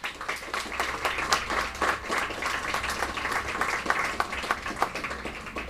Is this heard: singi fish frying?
no